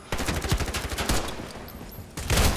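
An RM277 rifle in the shooter game Ironsight fires a fast burst of shots in rapid succession, breaks off briefly, then resumes with a second loud burst, with no voices.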